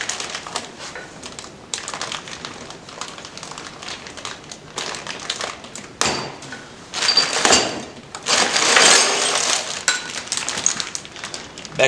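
A bag of bolts for a three-point tractor log splitter is handled close by, with crinkling plastic and small metal parts clinking and rustling in irregular bursts that get louder toward the end.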